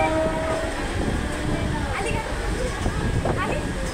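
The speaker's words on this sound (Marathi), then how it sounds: "और यहाँ हमारी आ जाती है लोकल ट्रेन" A local train pulls into a crowded station, its steady rumble and rolling rail noise running throughout, with people talking over it on the platform.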